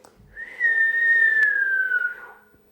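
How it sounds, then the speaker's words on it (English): A single low, steady whistle, given as a signal to a team of reindeer pulling a sleigh, sounds clearly and alone, holding one sustained tone that slowly falls in pitch before fading out. "Then Santa gave a low whistle,"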